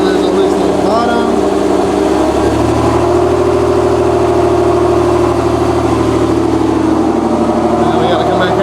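A single-turbo Nissan 370Z Nismo running on E85 idles steadily and loudly up close, its low exhaust drone constant throughout, with a person speaking over the engine.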